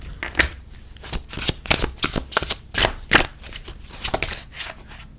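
Oracle cards shuffled and handled by hand, rapid close riffling and flicking bursts in an irregular rhythm, loud and continuous with no talking.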